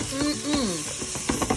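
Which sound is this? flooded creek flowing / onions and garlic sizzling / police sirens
onions and garlic sizzling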